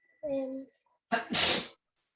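A single sharp sneeze bursts out, close and loud, after a short stretch of someone talking in a quiet classroom or online class setting.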